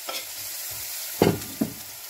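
Onions cooking gently in a frying pan, with a couple of clear stirring clunks over a quiet background hiss and no talking.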